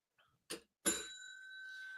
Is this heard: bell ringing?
yes